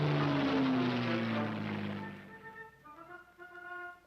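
A propeller-driven military airplane of the Ethiopian armed force flies past at a ceremony in Addis Ababa, with a loud engine drone that slides down in pitch and fades, leaving a steady tonal hum.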